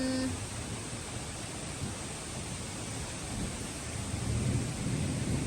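Steady rain pours down in a dense, even hiss, with a low rumble of thunder swelling faintly toward the end.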